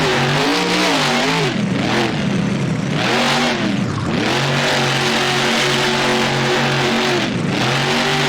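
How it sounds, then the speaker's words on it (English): A monster truck engine in the BeamNG video game revs loudly and repeatedly during a freestyle run on a fairground track, its pitch surging and dipping in several rapid swells before holding a steady high drone. "Maximum Destruction just whipping this truck around."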